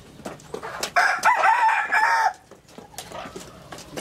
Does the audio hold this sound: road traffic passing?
no